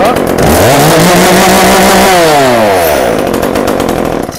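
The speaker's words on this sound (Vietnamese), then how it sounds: "con cưa tay cục Echo CS360 này" An Echo CS-360 top-handle chainsaw cuts close and loud, its two-stroke engine revving up, holding a strained pitch under load, then dropping away as the cut ends.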